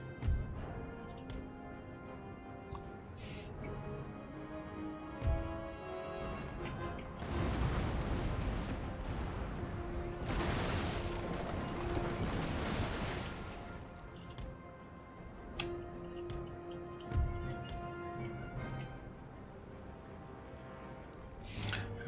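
Ship cannons fire in an Empire Total War naval battle, with dull booms and rolling broadside rumbles building into a sustained swell of blasts, mixed with quieter ambient sea and battle noise.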